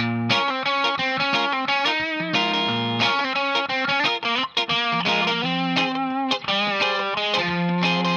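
A distorted electric guitar plays a fast, busy lead line with effects, loud and continuous, notes tumbling over one another without pause.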